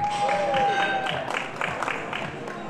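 A crowd applauds and cheers a weightlifter at a university powerlifting meet with a 130 kg attempt, steady clapping with scattered shouts and a whistle-like tone, while a commentator speaks over it.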